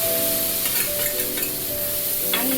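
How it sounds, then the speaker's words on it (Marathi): Chopped onion sizzles and fries in hot oil seasoned with asafoetida in a wok on a gas stove, a steady crackling hiss with occasional stirring scrapes and a faint tonal hum beneath. "इथे तेलामध्ये हिंग टाकून घेऊयात त्याच्यानंतर कांदा टाकू"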